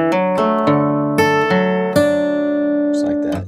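A measure of bluesy country fingerstyle on acoustic guitar, with a slight string bend: plucked notes ring over a steady bass, several quick picks then a sustained held chord, close and clear, with a faint voice near the end.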